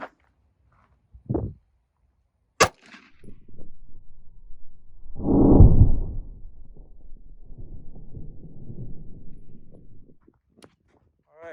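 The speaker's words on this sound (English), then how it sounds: "taking a shot with the 9mm, with our last test medium, which is our wood" A 9mm pistol fired into a wood test medium: one sharp, loud crack, then a few soft bumps and a louder, rumbling low thud that slowly dies away into quiet.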